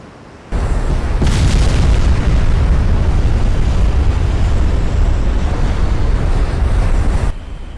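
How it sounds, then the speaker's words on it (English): A warship's ammunition magazine detonates in the naval strategy game Ultimate Admiral Dreadnoughts, a sustained, loud, rumbling explosion with a sharp onset and a steady roar that holds for several seconds before cutting off. "has triggered an ammunition detonation. And I think that ship is doomed. Her whole rear magazines have blown up."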